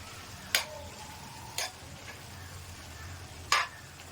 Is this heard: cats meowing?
no